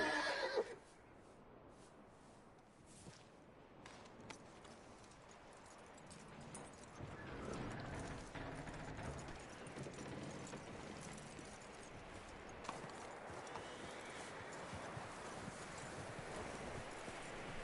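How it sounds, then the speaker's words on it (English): A skittish horse in a frontier setting whinnies and clip-clops its hooves in a steady rhythm, close by, over an outdoor bed of rustling noise. "That looks like a decent horse. You should keep him. You need to hitch him. He's already skittish."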